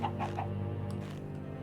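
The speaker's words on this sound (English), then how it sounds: "It's just chickens here." Minecraft chickens cluck in a few soft, low calls at the start, then fade under a steady low droning hum that carries through.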